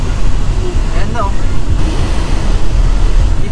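Sea waves surge near the coast between Cavite and Batangas, a steady loud roar of surf with heavy wind buffeting the microphone throughout.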